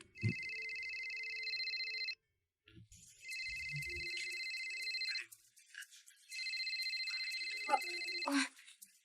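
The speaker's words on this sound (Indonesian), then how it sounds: "Kayaknya ada yang telepon." A mobile phone rings in repeated electronic bursts, two long tone blocks separated by a pause, fairly clear, with brief speech and small movement sounds between the rings.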